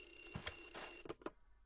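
A game telephone rings in Luigi's Mansion 3DS, a couple of short bright bell bursts over steady electronic background music, ending in quieter chirps.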